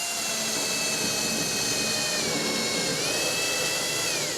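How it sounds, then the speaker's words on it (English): A drill with a Forstner bit grinds against a steel stud, a loud, continuous high-pitched whining and scraping with slight pitch wavers, close up and without talk. "So you've got your Forstner bit on there, not expecting to hit the steel stud."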